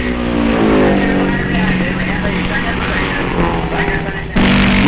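A vintage race car at the 1958 Road America race roars loud and close with a sustained engine drone that shifts pitch as it passes, then the engine note jumps sharply near the end.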